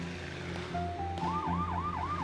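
A police car siren in the city-building game SimCity 5 starts as a steady electronic tone, then switches to a loud, repeating rising-and-falling wail over a constant low hum of city traffic.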